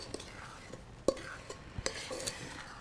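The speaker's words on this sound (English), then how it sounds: "I'm gonna go ahead and distribute it on the cookie sheet." Homemade granola being spread out onto a cookie sheet, with soft scraping and stirring, a few sharp clinks of a utensil against the pan, close and fairly quiet.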